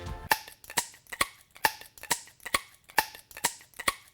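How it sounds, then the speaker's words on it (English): Bubble tea straws jabbed one after another into a stacked wedding cake, making about nine sharp, snappy pops in a steady, almost drum-like rhythm, close up and alone. "I know how much you guys love the sound of bubble tea straws"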